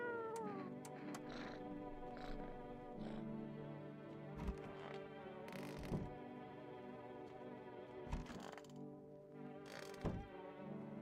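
A cat meows in the video game No, I'm Not a Human, repeated short cries over a steady bed of music and mechanical creaking, with sharp clicks or thuds at intervals, moderately loud throughout.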